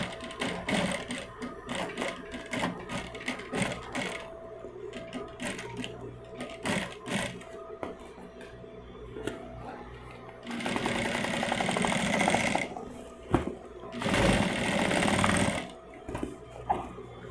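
An arm-type sewing machine stitches a handbag in a workshop, its rapid mechanical chatter coming in bursts of varying length, louder in two stretches near the end, with no talk over it.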